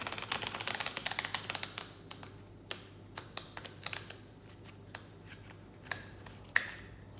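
A deck of tarot cards being shuffled by hand, an irregular patter of soft close clicks and flicks, busier at first and then sparser, with no talking.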